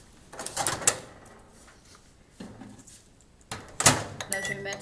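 A microwave oven door is opened and shut as milk and butter go in to melt for a pear and rum cake. Two sharp clicking clatters with thuds sound up close in a kitchen, separated by quieter handling noise.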